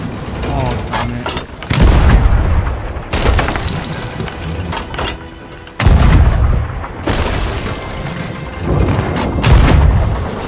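Cannon and gunfire in the Sea of Thieves pirate game during a ship fight, heavy booms and crashing impacts recurring every few seconds with splintering debris, loud and close, with a player talking over the action.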